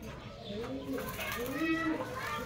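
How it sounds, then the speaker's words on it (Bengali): Pigeons, a male and female pair kept at a farm, coo in low, rolling repeated phrases close by, partly under someone talking. "এই হচ্ছে মাদি কবুতর।"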